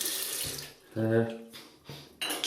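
Tap water runs into a bathroom sink while someone rinses off after a shave with a red and black Merkur Bakelite safety razor. The flow is close and splashy, interrupted by brief pauses and a short tonal hum.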